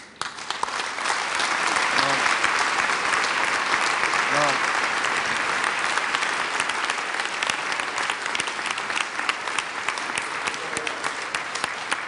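Long, steady applause from a gathered audience, a loud, dense, even roar of many clapping hands lasting throughout, with a couple of brief voices rising above it.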